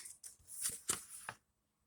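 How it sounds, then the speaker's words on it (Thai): Sheet of paper being unfolded and opened out after folding, a few quick crisp rustles and crackles close by, faint and ending after about a second and a half. "ให้เด็กๆกางกระดาษออกนะคะ"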